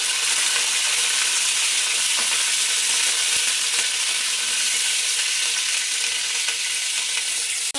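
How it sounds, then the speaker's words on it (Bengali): Cauliflower florets frying in hot oil in a wok, a dense, steady sizzle that holds loud and even from start to finish, with no talking. "আর এখন হচ্ছে তেলটা গরম হয়েছে,"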